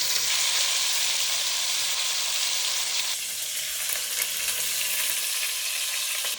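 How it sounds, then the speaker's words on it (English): Lamb neck browns in a hot pan with a loud, steady sizzle and hiss of frying fat. The sizzle holds close and constant throughout, easing slightly about halfway. "So in goes the lamb neck. We're just sealing it, we're not cooking it all the way through, we're just browning it"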